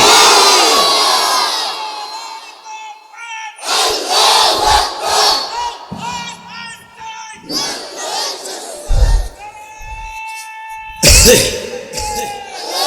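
A crowd at an outdoor Bangladeshi waz sermon roars a takbir slogan in loud call-and-response bursts, an amplified preacher's voice leading and the massed reply answering several times.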